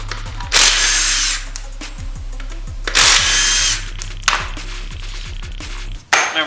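Power tool such as an impact driver or drill running in loud bursts, about three to four long whirring runs with short gaps, while removing 12mm bolts from the intake manifold and rear of a Honda B20 engine during a teardown.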